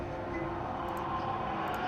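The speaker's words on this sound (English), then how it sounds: "You watch the train go by, you wonder where they were going." A train passing by a forest station in the visual novel Queen of Moths, heard as a steady, even rumble with a soft broad hiss throughout.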